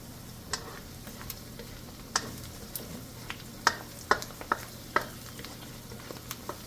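Onion sautéing in a pan for Filipino-style menudo, with quiet steady frying under scattered sharp ticks and clinks of a utensil stirring against the pan.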